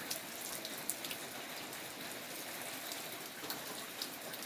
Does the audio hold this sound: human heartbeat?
no